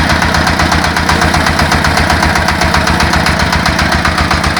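A small engine runs steadily at close range on a mini tractor converted from a walk-behind tractor, with hydraulics, its rapid, even chugging continuing without a break.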